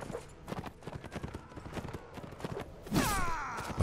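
Horse hooves clip-clop at a gallop during a medieval battle in the Warsword Conquest mod of Mount & Blade: Warband, a steady rapid patter of hoofbeats, followed near the end by a louder burst of combat noise.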